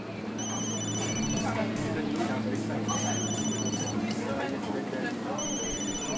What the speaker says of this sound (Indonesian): Bunyi telepon apa?